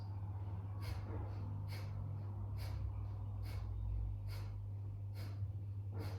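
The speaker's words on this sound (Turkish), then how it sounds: "Ve ateş solunumuna başlıyoruz." Rapid rhythmic breath of fire yoga breathing with sharp forceful exhales repeating about once per second, close and clear over a low steady hum.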